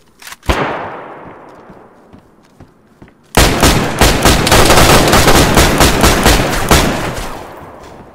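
Shotgun fire in the survival video game DayZ: a single sharp blast with a ringing tail, then a sudden, loud, sustained barrage of overlapping shots and booms lasting several seconds.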